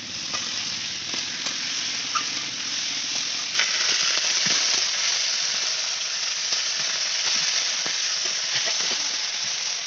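Cumin and ginger paste fries in a pan for a crab and spinach dish, giving a steady close sizzle with occasional scrapes and stirring clicks and no talk.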